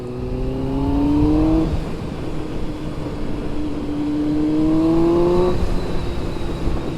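A Yamaha R1 motorcycle engine idling close by, rising twice into smooth revs that climb in pitch and then drop back to a steady rumble.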